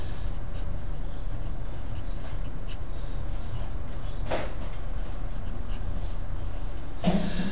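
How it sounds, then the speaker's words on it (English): Chalk scratching and tapping on a classroom board in a few short, scattered strokes over a low steady room hum, with a couple of louder knocks near the end. "I'm going to write it down."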